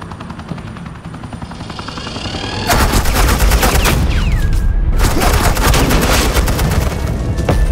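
Rapid bursts of suppressing gunfire in Batman: The Enemy Within, a dense loud fusillade of automatic shots kicking in after a quieter rumbling start, with helicopter-like thudding and booms mixed in.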